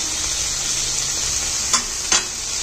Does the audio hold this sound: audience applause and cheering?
no